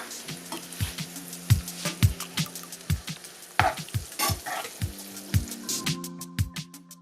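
Sliced leftover turkey, breast and leg meat, sizzles steadily in a hot pan while a utensil scrapes and knocks against the pan in a regular stirring rhythm, close and alone.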